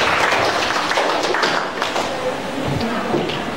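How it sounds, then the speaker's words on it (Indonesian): A class of students applauds during an economics lesson, producing a continuous, dense patter of clapping that holds at an even level throughout and fades slightly near the end. "Kasih aplaus untuk kalian semua."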